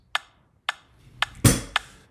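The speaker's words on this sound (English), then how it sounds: "Così Mama is set at 112 beats per minute, and it would sound like this." A metronome set to 112 beats per minute ticks steadily: five crisp, close clicks about half a second apart, one of them followed by a brief burst of noise.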